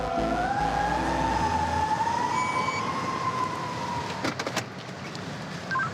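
A fire truck siren wails in a long, slowly rising tone at moderate distance, with a low engine rumble beneath and a few sharp knocks near the end.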